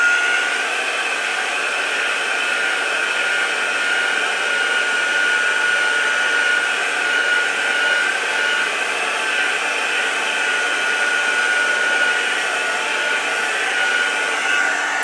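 A heat gun drying Pentart crackle paint runs as one continuous, fairly loud whooshing drone of blown air, steady and unbroken throughout, with no talking.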